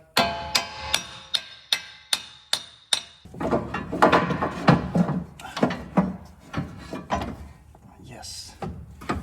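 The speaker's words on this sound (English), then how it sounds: "We're gonna have to tap our axle on the back side." A hammer taps the back side of a 2006 Sierra truck axle during a 4.5-inch spindle install, about eight sharp metallic strikes in a steady rhythm, followed by clattering and some talking.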